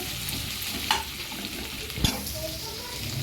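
Onions stirred in a pan until soft for sabudana khichdi, a continuous close sizzle with two distinct scrapes of the spatula along the pan.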